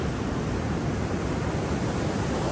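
Ocean waves by the beach wash in as a steady, dense broadband roar, loud and continuous with no breaks, heard alone without voices.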